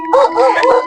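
A dog at night on an isolated island gives a short, close, wavering howl, loud and alone, lasting under a second.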